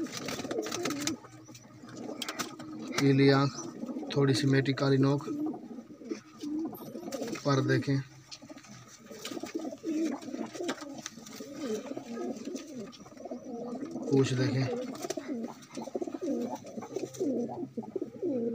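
Pigeons coo in low, soft bursts while someone talks over them almost the whole time.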